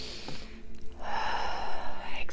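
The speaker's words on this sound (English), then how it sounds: "You can just take a deep breath in" A single deep inhalation drawn in slowly and close during a guided meditation, soft and breathy, with faint voice and background hum around it.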